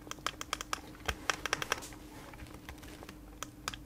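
Buttons on a homemade gamepad are pressed repeatedly, giving a quick, irregular string of soft, slightly spongy clicks, close and fairly quiet over a low background hum.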